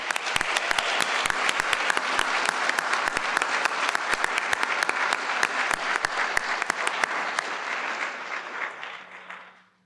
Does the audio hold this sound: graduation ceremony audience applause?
yes